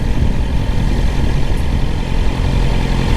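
A 2020 Yamaha R6 motorcycle engine idles steadily up close, a continuous low rumble holding even level throughout with no talk.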